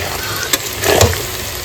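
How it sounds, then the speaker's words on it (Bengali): Onions sizzle in hot oil as they fry to a reddish brown, a steady close crackle with a couple of brief louder stirring bursts and no talk. "এবার আমার পেঁয়াজটা লাল লাল করে ভাজা হয়ে গেছে"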